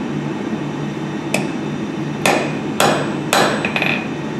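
A hammer strikes hot steel on an anvil while forging a double-sided shoulder on a handle: four sharp ringing blows after a lone lighter tap, spaced unevenly over a low steady background hum.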